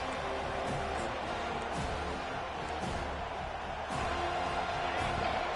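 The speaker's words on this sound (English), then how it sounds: "Decibels rising as the crowd gets behind this defense on 3rd down." Football stadium crowd at a college game roaring steadily for the defense on third down, a dense continuous wash of cheering and noise that swells slightly near the end.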